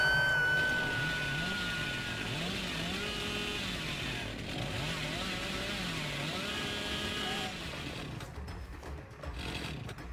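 The Hillbilly's chainsaw in the video game Dead by Daylight revs and whines, the engine pitch rising and falling in repeated surges, close and loud, with scattered game noise toward the end.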